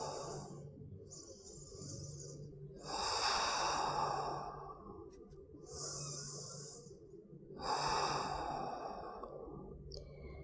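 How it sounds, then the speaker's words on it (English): Slow, deep breathing in yoga child's pose on a mat: three long, audible exhales roughly every two and a half seconds, each a breathy sigh, close and soft over a faint steady room hum. "Breathing deeply,"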